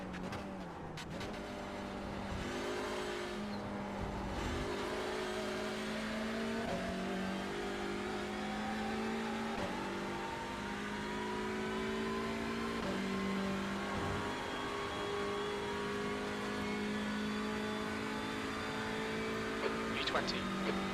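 Simulated TCR touring race car engine at Road Atlanta in iRacing, a steady sustained drone with shifting pitch as the car runs through practice laps, continuous and close with occasional speech over it.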